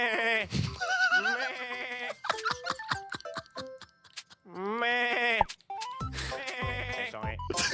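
Goat bleats from an animal sound app play in several bursts of wavering, nasal calls, loud and close, with short clicking and ticking sounds between them and a voice speaking briefly near the end.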